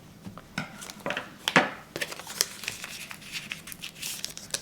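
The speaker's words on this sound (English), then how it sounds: "Peeling away my liner and lining this up." A backing liner peeled off a craft sheet during Christmas gift making, giving crinkly, tearing rustles in several short bursts, close and moderately quiet, with no talking.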